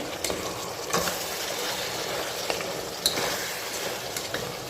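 Mutton curry simmering in a pan, a soft continuous bubbling sizzle with a few faint clicks and taps of utensils, quiet and close with no talking.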